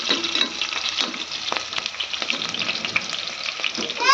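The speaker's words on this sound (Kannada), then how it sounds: "ಈಗ ನೋಡಿರಿ ಮೆಣಸಿನ್ಕಾಯಿ ಚಂದ ಫ್ರೈ ಆಗ್ಬೇಕ್ರಿ" Green chillies frying in hot oil in a pan, a steady crackling sizzle with scattered pops and occasional stirring scrapes, fairly close and continuous with no talking.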